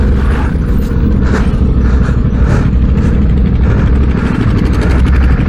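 CFMOTO 450 MT motorcycle engine running outdoors on a group ride, a loud continuous low rumble with faint rhythmic pulsing, heard close by without speech.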